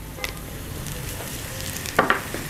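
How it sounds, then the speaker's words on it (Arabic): Chopped onion sautéing in oil in a home kitchen pan as crushed garlic cloves go in, a soft steady sizzle with a quick burst of louder spattering near the end, no talking. "البصلة بدأت تتشوح وتدبل معايا، هنزل عليها بفصين ثوم مطحونين"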